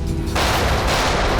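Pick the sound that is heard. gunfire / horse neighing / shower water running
gunfire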